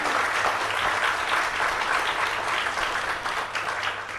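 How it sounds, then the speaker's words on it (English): An audience at a local authority panel breaks into applause, a continuous wash of clapping that holds steady and eases slightly toward the end, with no talk over it. "Round of applause."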